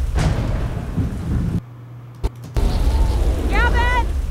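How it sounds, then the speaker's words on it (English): Sound-effect thunderstorm: a dense wash of rain and rumbling thunder cuts out abruptly to near silence, a sharp crack lands in the gap, then the storm resumes, with a high warbling chirp-like tone rising near the end. "my rain is actually taking away from my thunder strike"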